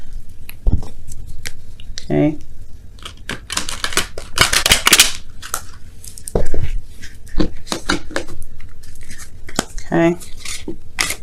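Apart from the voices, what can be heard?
shuffling tarot cards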